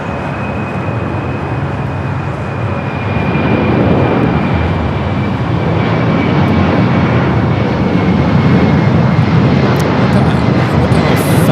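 A jet airliner roars at Los Angeles LAX airport, its loud, steady engine noise swelling a little and holding continuously without a break.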